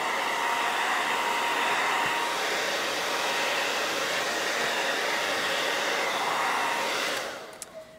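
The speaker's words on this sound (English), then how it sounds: "Okay, gonna blow dry again." A hair dryer blows steadily over wet paint on a stenciled rustic background, a loud, continuous near whoosh that runs almost the whole time and then cuts off near the end.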